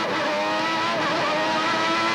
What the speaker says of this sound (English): Now watch the McLaren power away.